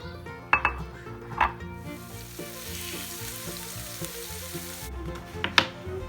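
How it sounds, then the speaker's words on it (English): Steady sizzling of fish frying in a pan, with a few sharp clinks of a utensil against the pan over the constant crackle. "this is another fish, and I'll be frying this for the rice porridge"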